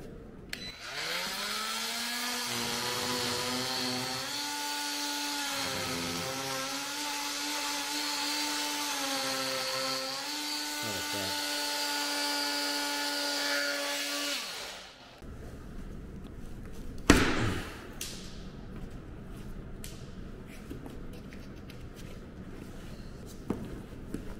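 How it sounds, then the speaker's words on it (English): A power tool with a drywall ripper blade cutting out drywall, a loud sustained whining drone that dips briefly as the blade bites, for about fifteen seconds, then stops, followed by quieter scraping and a sharp knock. "I got my drywall ripper blade here. Never used this thing before, but give it a shot. Let's see if we can get this thing cut out here."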